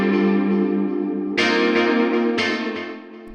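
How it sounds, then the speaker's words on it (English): Disco-style electric guitar chords with delay from a song, a few bright stabs that ring and repeat over a short, steady stretch of music. "it also opens with some disco-inspired guitars"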